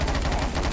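Brief burst of rapid gunfire in Left 4 Dead 2, steady and fairly loud for under a second.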